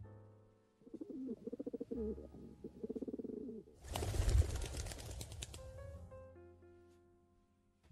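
Pigeons coo at a window in a soft, repeated rhythm. A sudden loud burst of rustling, like flapping wings, then fades into quieter cooing.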